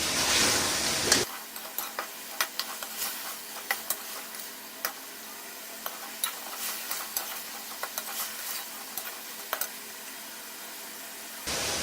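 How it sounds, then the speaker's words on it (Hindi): Ginger frying in oil for chicken karahi gives a soft steady sizzle, with frequent sharp scrapes and taps of a spoon stirring in the pan; a louder burst of hiss opens the clip. "अदरक के ब्राउनिश होने तक हम इसको पकाएंगे।"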